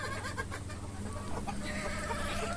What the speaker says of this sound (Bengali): এইটা হলো আমার দেশি মুরগির একটা খামার,